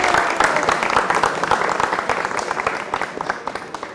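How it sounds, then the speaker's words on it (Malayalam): A studio audience at a comedy game show applauds, a close, sustained burst of dense clapping that slowly tapers over a few seconds. "കൈയടിച്ച് സ്വാഗതം ചെയ്യാം സുഹൃത്തുക്കളെ."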